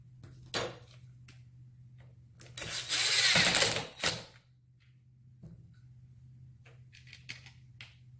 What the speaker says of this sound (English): Insert your screw and tighten.